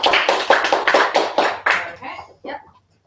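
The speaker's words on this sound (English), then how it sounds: "Give Will a round of applause." A small audience at a business mastermind launch event claps in a quick burst of applause that tapers off over about two seconds, with a few scattered claps at the end.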